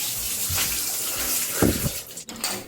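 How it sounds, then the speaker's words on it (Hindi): Water runs from a household tap in a steady gushing wash, close and continuous, with brief splashy surges near the end and no talk over it. "गाइस हम लोग का पानी बह रहा है बहुत देर से"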